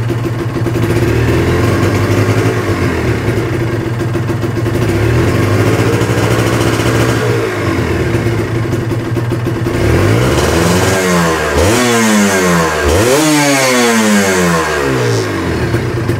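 Kawasaki Ninja two-stroke motorcycle on a standard exhaust idles with a buzzy, crackling note, then is blipped through several sharp revs that rise and fall in quick succession, loud and close throughout.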